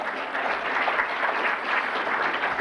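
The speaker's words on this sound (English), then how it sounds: "A round of applause." An audience at a 1993 university business day event gives a round of applause, a dense, even wash of many hands clapping that holds steady from start to finish without any talking.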